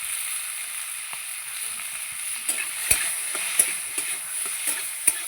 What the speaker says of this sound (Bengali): সিমটাও ভালো করে ভেজে নেব।